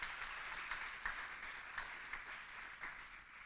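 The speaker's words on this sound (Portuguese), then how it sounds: "Vamos dar uma salva de palmas para Jesus?" Faint, distant applause from a church congregation, a steady patter of many hands clapping with no voices over it.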